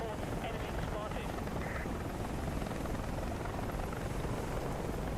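An AH-56 helicopter in War Thunder flies with a continuous, fairly quiet rotor and engine drone that stays steady from start to finish.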